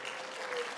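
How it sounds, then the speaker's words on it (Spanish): A church congregation gives a short burst of applause for a volunteer, a brief wash of steady clapping at moderate volume with no voices heard. "Un aplauso para el hermano,"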